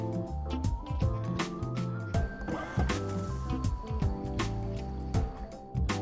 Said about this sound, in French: exercez un appui long sur le bouton d'éjection de la brosse. Attendre jusqu'à ce que la brosse ou le pad tombe sur le sol.